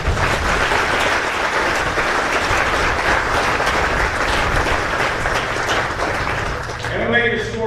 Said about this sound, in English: So join me in a round of applause for all of our veterans in attendance.